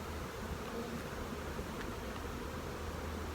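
Dense, steady hum of a large honey bee colony swarming around an opened hive whose frames are full of honey and feed, a continuous close buzzing drone with no pauses.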